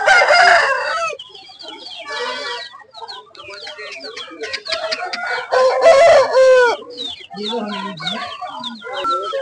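Chickens and a rooster at a rural livestock market in Anantapur cluck and crow loudly and close by, with repeated crowing and busy squawks throughout, and voices of people in the background.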